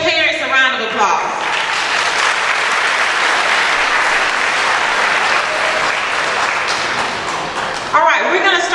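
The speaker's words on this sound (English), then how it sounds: "So you guys, students, give your parents a round of applause." Audience applause for parents at an Honors Day ceremony, a loud, sustained roar of many hands clapping, with voices speaking at the start and end.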